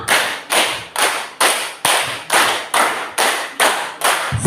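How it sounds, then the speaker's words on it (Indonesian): A class of eighth-grade students performs two rounds of five claps, ten crisp, evenly spaced unison hand claps with no talking. "Dua kali tepuk lima."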